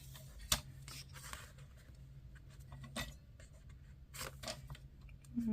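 Scissors cutting paper for a junk journal: a few sharp, quiet snips spaced a second or more apart over a soft, steady background hum, with small clinks between them.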